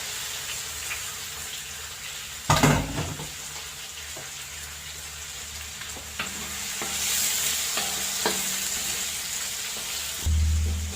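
Raw shrimp meets a hot pan for a guisado with Sprite, setting off a sharp burst of contact, then a steady near sizzle with occasional stirring scrapes and a heavier clatter near the end.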